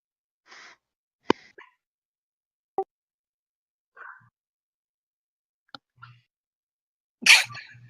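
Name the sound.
sneeze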